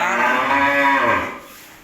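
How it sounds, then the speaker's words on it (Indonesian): Cattle at a cattle supplier's pen give one long, loud, close moo that swells and then trails off, with no voices over it. "ke kandang Ilma Supplier beli 2 ekor sapi"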